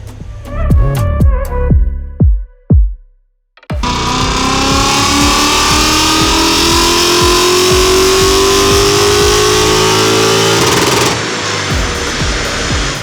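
A Lexus IS-F engine on a dyno blips a few times, pauses briefly, then revs hard and holds at high load for several seconds before easing off, loud and close with no talk.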